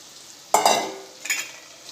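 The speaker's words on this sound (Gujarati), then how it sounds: "હવે આપણે જે ભીંડાને મસાલાવાળા કરીને રાખેલા એ આપણે એડ કરી દઈશું" Spiced okra dropped into a hot pan for masala bhinda, bursting into a loud close sizzle, then a second scrape and hiss as it is stirred.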